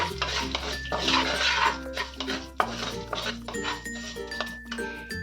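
A spoon stirs sugar into dhokla batter in a bowl, giving a steady run of clinks, scrapes and knocks against the sides, fairly close and without talk.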